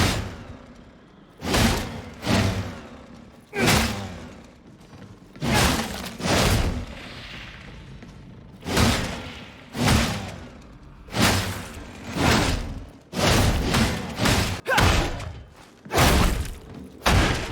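Repeated chainsword swings in the video game Darktide land as loud, close banging thuds and slams, some in quick pairs or bursts, with short gaps between hits and no voices.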